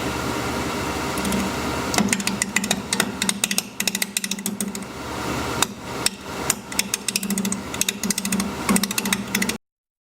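A wood lathe spins a fir bowl blank at 820 RPM while a 5/8 inch bowl gouge cuts, giving a steady close hum with dense rapid chattering and tapping from the tool, briefly easing midway before resuming.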